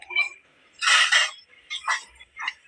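A rooster crowing sound effect plays as a live-stream gift alert, a loud close cock-a-doodle-doo followed by shorter squawking clucks.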